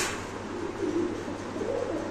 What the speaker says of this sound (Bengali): দর্শক দেখেন মুসালদম কবুতরের ডাকটা দেখেন